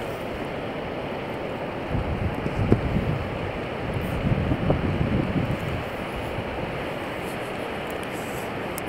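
Strong winter wind blowing over the James River, a constant roaring rush with gusty swells, buffeting the microphone throughout, with no voices.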